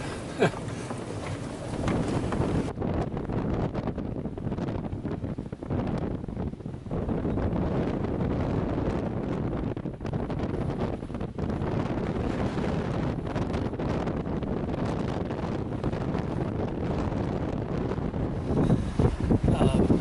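Strong, gusty wind roars across the microphone on a sailboat running down the Nicaraguan coast about a mile offshore, surging and dropping in loud continuous buffets for the whole stretch.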